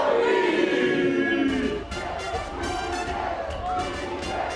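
A large crowd of fans roars and chants at a Mobile Legends: Bang Bang esports grand final, loud at first, then settling into a steady, echoing hall din with rhythmic claps and shouts.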